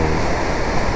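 Devi's Falls in Pokhara, Nepal, swollen with monsoon water from Fewa Lake, gives a loud, dense, continuous roar of rushing water close by, with no voices.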